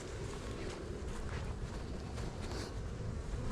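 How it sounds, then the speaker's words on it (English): Honeybees from a newly installed package buzz steadily around a fresh hive entrance, a dense, close insect drone filling the whole stretch without pause. "The bees will start coming and going from there."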